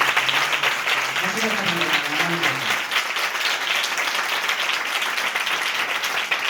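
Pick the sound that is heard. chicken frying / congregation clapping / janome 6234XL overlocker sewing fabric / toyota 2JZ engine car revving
congregation clapping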